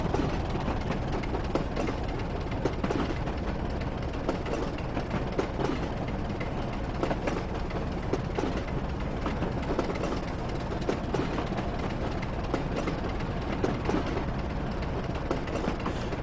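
A Class 27 diesel locomotive running in a train simulator game, with a steady, unbroken rail rumble and engine drone that holds at an even, moderate level throughout.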